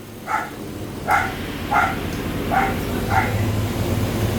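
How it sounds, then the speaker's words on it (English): Excited sheepdogs bark five times in a steady, evenly spaced rhythm, moderately close, over a low rumbling background. "Dogs are excited."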